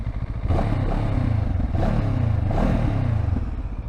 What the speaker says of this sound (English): You hear the engine